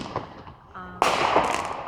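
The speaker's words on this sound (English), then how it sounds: "fireworks here. It's Victoria Day in Canada" Fireworks go off outdoors on Victoria Day in Canada, with a sudden loud burst and then crackling rumble that lingers, after a faint brief tone.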